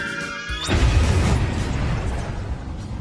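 A loud bomb blast from a German bomber's raid bursts in suddenly, followed by a deep, sustained rumble and crashing debris that fills the rest of the clip.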